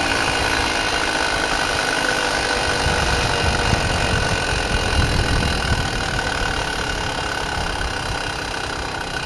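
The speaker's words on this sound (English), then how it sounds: "this new, suppressor's really helping him breathe, but the engine's still pretty jittery" A small vehicle's engine, fitted with a new suppressor, runs continuously at close range with a steady droning hum and a faintly uneven, jittery vibration, and no voices.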